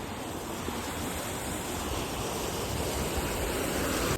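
Water streaming through small channels and mini dams in a risky outdoor spot, a steady broadband rush of flow with no breaks, fairly soft and close.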